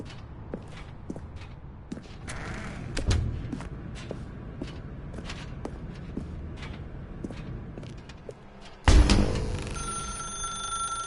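A telephone rings in the video game The Stanley Parable, with repeated ringing over a dark, thumping room ambience and occasional footsteps, then a loud clunk near the end.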